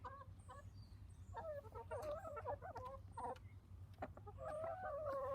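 Chickens cluck and call in a garden, with repeated close clucks and short squawks over a steady low outdoor hum, and a brief rooster-like crow.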